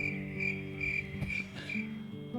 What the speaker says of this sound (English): It's late at night, and the crickets are out.